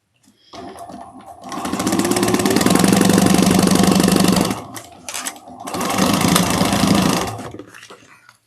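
A sewing machine bastes a crossbody bag pocket closed in two close, loud bursts of rapid stitching, the first about four seconds long and the second shorter, with a brief pause between and no talk.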